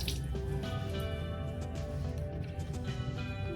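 Soapy vintage Rainbow Brite plush sprite toys being rinsed and squeezed in water, with a steady close run of wet squishing and dripping and no talking.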